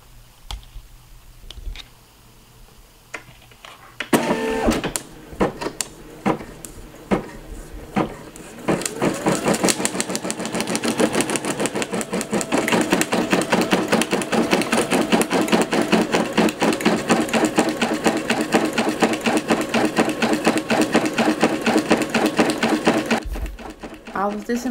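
Embroidery machine stitching a design onto a lunch box: a few scattered clicks and thumps, then a loud, steady, fast mechanical rattle of needle strokes running continuously for most of the time before stopping, with a person talking near the start.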